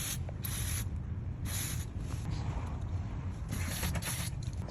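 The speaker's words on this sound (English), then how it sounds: "we're going to clean it up with some CRC electronic cleaner" CRC electronic cleaner is sprayed onto a rear dome light switch of a 3rd gen 4Runner in several short hissing bursts, close and fairly quiet.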